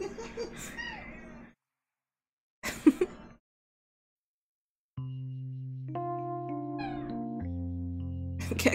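A cat meows a few times early on, close and fairly clear, followed after a pause by steady electronic tones and chimes.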